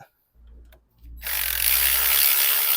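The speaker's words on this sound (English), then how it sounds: "you need to remove this screw here" A screw is backed out with a power tool during a water pump replacement on a VW-group engine, a brief whir followed by a loud, sustained ratcheting buzz up close.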